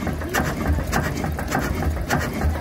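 Governor-controlled 12 horsepower stationary engine running at a steam rally, giving a steady repeating chuff with regular beats about every half second, close by amid faint outdoor background.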